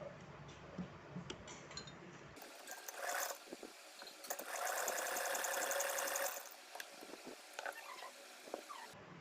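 A sewing machine runs a seam through folded cotton fabric in two bursts, a denser continuous whir in the middle, with scattered clicks and handling noises around it; no talking.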